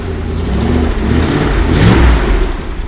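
A rebuilt Triumph Stag V8 engine runs on a test bed with a makeshift exhaust, loud and close, its rumble swelling with a rev near the end.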